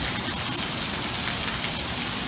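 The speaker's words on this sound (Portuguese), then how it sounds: "5 minutos de chuva" Heavy rain falls on a flooded street in Vila Baiana, a dense, steady hiss and patter that stays even throughout, with no voices.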